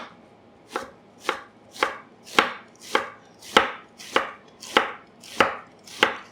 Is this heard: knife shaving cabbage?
yes